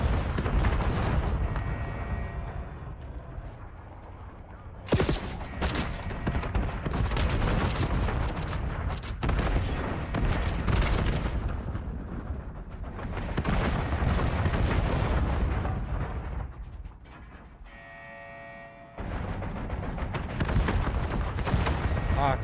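In-game fight to bring down a VTOL: heavy, booming gunfire and artillery-like blasts in repeated loud volleys, with a short quieter gap near the end before the shooting resumes.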